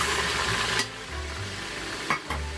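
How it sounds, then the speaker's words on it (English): Chopped onions and garlic sizzle in a hot pan with a steady hiss, punctuated by a few sharp stirring clanks of a utensil against the pan. "Then we're gonna add in our onions, our chopped onions"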